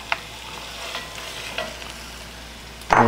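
Chopped celery is stirred into a pan of softening onions for a Bolognese sauce, producing a soft steady sizzle with a few clinks of the spoon and a louder scrape at the end, no talking.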